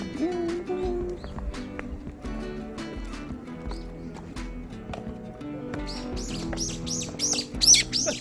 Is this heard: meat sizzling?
no